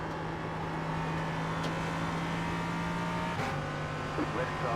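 A GT4 race car in a sim racing game, LMP3 race at Watkins Glen, with a steady engine drone and a brief pass-by swell near the end, over continuous in-car engine noise.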